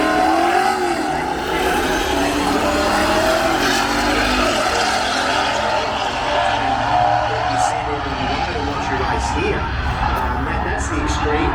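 Drag racing cars roar down the track in a sustained, loud engine drone that barely varies for the whole stretch, close and continuous with no break.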